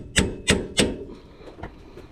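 Three quick, close hammer strikes ring out on a separator tool fitted to the upper control arm of a 2014 Ford F150 5.0L, followed by fainter tapping and handling noise.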